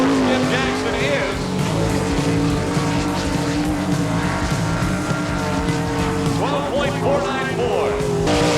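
A sprint race car at an All Star Circuit of Champions event at Eagle, Nebraska screams through a timed lap, its engine a loud, continuous, wavering roar with pitch rising and falling through the turns and an announcer talking over it.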